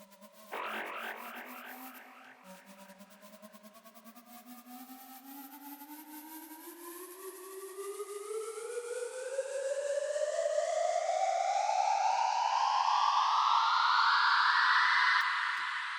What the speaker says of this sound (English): And the last preset that I have is just a sweep.